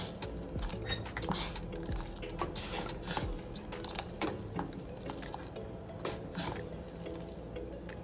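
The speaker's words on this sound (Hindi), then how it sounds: "हम इसके अंदर मुसलसल जो है ना इसको हिलाते रहेंगे ऐसे ऐसे" Kashmiri pink tea being stirred continuously in a pot, giving a steady run of close scraping, clinking and liquid swishing with no talk.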